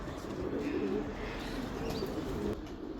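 Racing pigeon coos softly and close by over a low rumbling background, with faint wind or handling noise.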